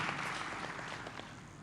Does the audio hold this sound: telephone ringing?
no